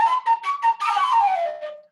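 A dustpan handle played like a kaval flute gives a breathy, airy whistle tone. Several short separate notes lead into a longer note that glides downward and fades, heard close with no talking.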